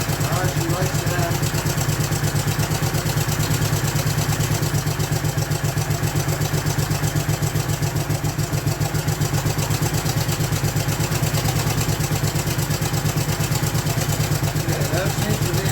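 A Honda 450 motorcycle engine idles steadily and loudly up close during pilot screw adjustment, a continuous rhythmic low-pitched throb throughout, with a voice speaking over it.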